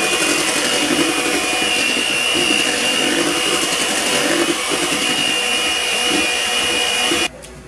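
Cream and cheese mixtures for an Oreo cookie cheesecake being beaten with an electric mixer, a loud steady whirring motor drone that holds evenly, then cuts off abruptly near the end, with no talk.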